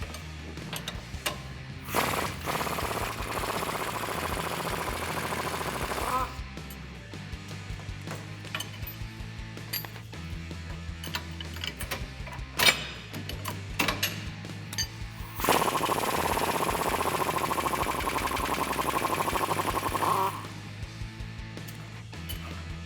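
A power tool removing the lower shock bolts on a 2007-2018 Silverado or Sierra 1500 whirs and rattles in repeated bursts, with a louder sustained run near the end, mechanical clatter throughout.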